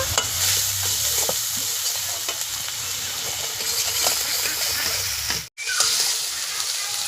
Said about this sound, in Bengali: পেঁয়াজগুলোকে আমি লাল লাল করে ভেজে নেব